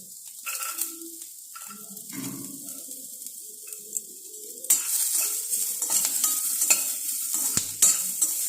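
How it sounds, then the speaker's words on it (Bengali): Peanuts and onion frying in a pan: quiet scrapes and clinks of a spatula at first, then a louder hiss of frying that swells midway and keeps going with scattered stirring knocks. "ভালো করে বাদামটা ভেজে নেব"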